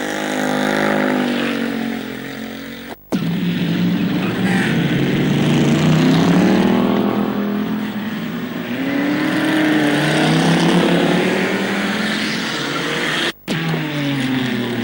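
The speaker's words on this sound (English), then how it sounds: "Great shrieks of tyre noise coming from these exciting to watch Group 1 cars." Chevrolet Camaro Group 1 touring cars racing at Mallory Park's tight hairpin in 1974, loud engine roar rising and falling across the whole stretch with high strained tyre shrieks, briefly cut twice.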